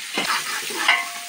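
Ridge gourd and tomatoes for a mixed vegetable curry are stirred in a hot pan, giving a brief, close burst of sizzling with a soft utensil scrape at the start.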